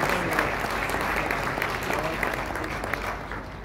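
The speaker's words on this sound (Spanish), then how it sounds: "Un aplauso para nuestro evento, por favor." An audience applauds at the World Travel Awards Latin America 2019 ceremony, a sustained even roar of many hands clapping throughout, moderately distant and without a break.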